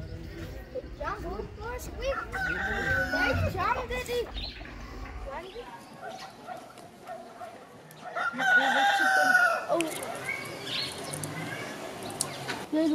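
A rooster crows loudly nearby while chickens cluck around it on a farm yard with geese in Hopefield, South Africa. People talk over the birds throughout.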